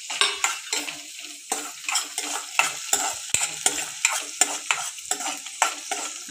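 Ginger and chili are stir-fried in a pan: a sizzle sits under repeated rhythmic scrapes and clacks of a spatula against the pan, close and fairly loud, with no speech.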